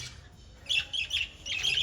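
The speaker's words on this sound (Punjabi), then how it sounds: "ਆ ਚਿੜੀਆਂ ਬਈ" Small birds chirp in quick, bright bursts, a flock of budgerigars chattering together at close range with brief pauses between flurries.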